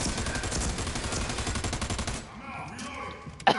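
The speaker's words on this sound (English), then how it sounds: "a lot of shooting" A video game shootout brings rapid automatic gunfire in a sustained, rattling stream for about two seconds. It then drops away to quieter background noise, with a last sharp shot near the end.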